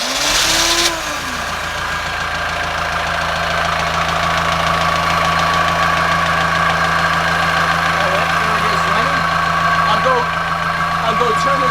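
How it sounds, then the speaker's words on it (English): Lugger marine diesel engine aboard a boat cranking and catching, then settling into a steady, loud idle with a constant low rumble and knocking throughout. "It's currently engaged the glow plugs, and the engine's getting ready to start"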